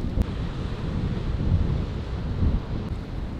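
Wind buffeting the microphone with waves washing in behind it on a beach of a remote Philippine island, a constant low rumble with gusty swells and no talking.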